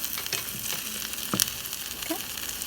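Torrijas, bread slices fried in a pan until golden brown, crackle with a steady close sizzle, broken by a few light clinks and scrapes and no talking.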